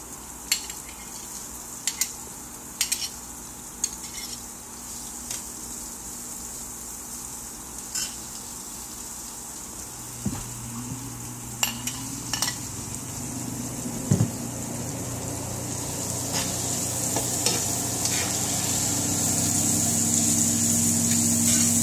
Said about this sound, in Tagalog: Magigisa po tayo ng ginisang upo.